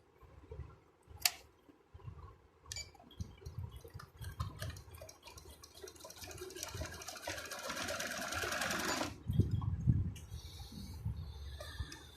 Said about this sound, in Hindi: इस तरफ को अब हम सिलाई लगाएंगे जी इसकी